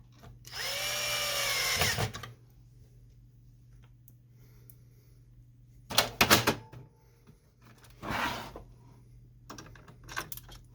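Screws go back into a Samsung color laser printer after a fuser unit replacement. A short whirring burst from a small electric screwdriver comes first, then a few sharp plastic clicks and knocks, all close, with no speech.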